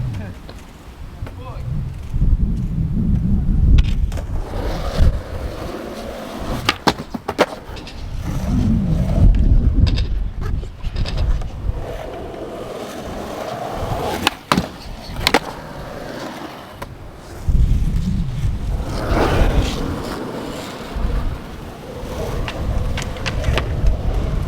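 Strong gusty wind buffets the microphone during a skateboarding session in high wind, rumbling low and loud throughout, with skateboard wheels rolling and sharp board clacks cutting through, and speech heard intermittently.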